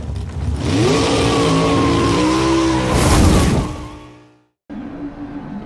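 Race cars in a racing video game revving hard at the start, rising engine whine with tire squeal from wheel spin, loud and close, fading out before a sudden cut to quieter engine hum.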